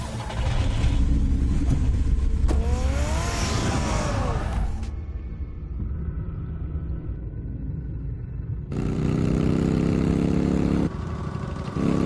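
Batmobile engine in a Batman video game, a deep rumbling motor that revs and whines up in pitch, drops to a quieter idle, then roars loudly again near the end.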